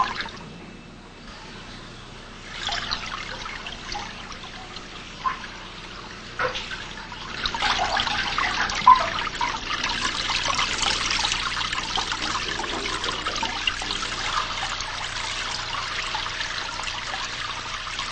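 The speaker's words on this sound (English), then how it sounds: "The water flows every which way" Water trickles and spreads horizontally over a large stone fountain sculpture by Isamu Noguchi, a steady close hiss and babble that grows fuller partway through, with no talking.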